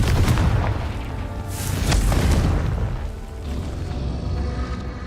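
Confringo fire spells blast in the Hogwarts Legacy video game, heavy booming rumbles and crackling bursts rolling one after another, loud and close without talk.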